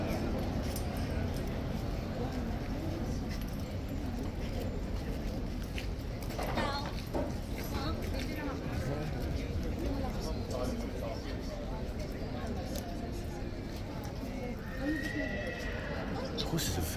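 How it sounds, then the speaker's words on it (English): Horses neighing and whinnying inside stables, with scattered hoof clops among the stalls, heard under continuous talk and a busy, noisy background. "The horses are very vocal in the stables,"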